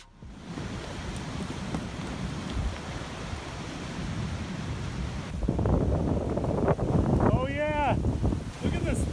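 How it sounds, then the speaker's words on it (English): Giant sheets of thawing river ice break apart and crash over a short waterfall in a loud, continuous roar of rushing water that grows heavier midway, and a voice exclaims near the end. "He captured the stunning moment when giant sheets of ice broke apart and crashed over a short waterfall."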